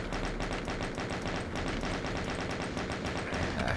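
Chaingunner enemies in the Doom video game fire machine guns in rapid, continuous bursts, dense overlapping shots filling the whole stretch without pause, loud and close.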